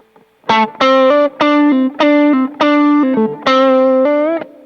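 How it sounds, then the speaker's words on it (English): An electric guitar through a Tube Screamer overdrive pedal, with a warm overdriven tone, plays a short phrase of sustained, gritty notes, loud and close, with no voices. "First tube screamer in the Kleinulator loop."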